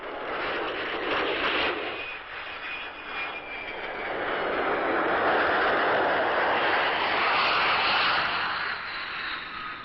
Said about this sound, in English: After the strikes, the planes returned to Vadati Air Base.